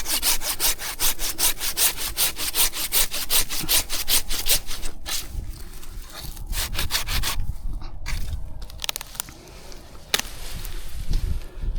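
A hand saw cuts through an olive sapling branch during pruning, with steady rapid back-and-forth rasping strokes that run loud and close for the whole stretch, slowing and becoming uneven toward the end.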